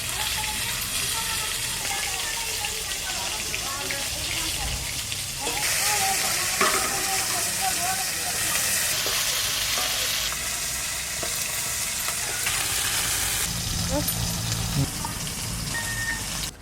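Potatoes fry in oil for a village-style fish curry, giving a loud, steady sizzle and crackle close by with faint stirring now and then. No one speaks over it.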